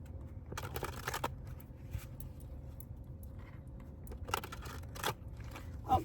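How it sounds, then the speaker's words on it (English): Tarot cards being ruffle shuffled, giving a few quiet bursts of crisp riffling clatter against a low background hum, close but soft, with no talking. "Give these a good ruffle shuffle again."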